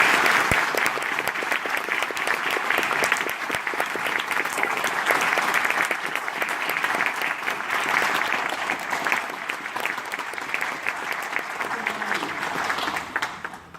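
Sustained audience applause fills the hall at a US Army ROTC commissioning ceremony at UNC-Chapel Hill as a lieutenant general is welcomed, steady dense clapping from many hands, near and loud throughout.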